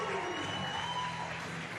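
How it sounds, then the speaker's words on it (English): Home crowd applause at a women's football sevens match as a substitute comes on, a dense, steady wash of clapping filling the whole moment. "getting a big round of applause from the home crowd"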